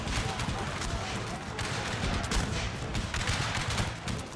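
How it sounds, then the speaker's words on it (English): Infantry musket volleys crackle in a Crimean War Total War battle between Russia and Great Britain, a thick, sustained rattle of overlapping shots with a faint voice beneath the din. "Some good volleys here."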